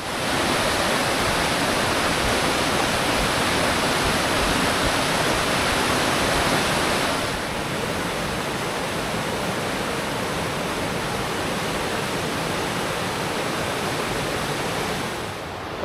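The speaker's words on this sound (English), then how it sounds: "that was Noisy Creek" Noisy Creek rushes loudly and steadily along the Baker Lake Trail, a dense broadband roar of flowing water heard close and continuous, easing slightly partway through.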